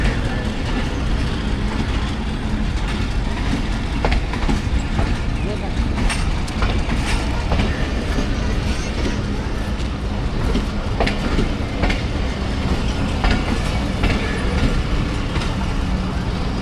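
A train at Taxila Cantt junction railway station gives a steady, loud rumble with clicking wheel sounds throughout, with voices in the station around it.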